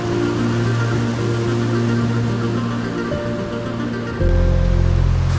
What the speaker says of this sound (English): We got some cascading falls over behind us.